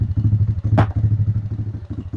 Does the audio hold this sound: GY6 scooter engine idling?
yes